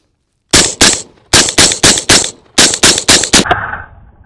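Rifle fired outdoors through a YHM Turbo K-RB reduced back pressure suppressor: ten sharp, loud shots in quick uneven clusters, with a short rumbling tail after the last one.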